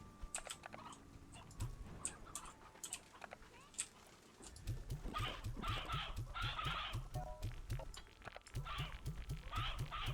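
Chickens in the Slime Rancher 2 video game, repeated short clucks and chirps over busy game sounds and keyboard tapping, at moderate level, no talking.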